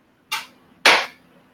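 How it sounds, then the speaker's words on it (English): Two sharp crossbow shots in a fantasy game, a lighter snap followed half a second later by a louder, fuller release, each short and isolated against quiet. "Apollo is also going to shoot a crossbow."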